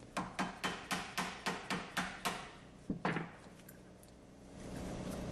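A drive sprocket being hammered onto a concrete pump shaft during reassembly: about nine evenly spaced metallic taps, then two or three quicker knocks and a short scrape, fading to quiet shop background.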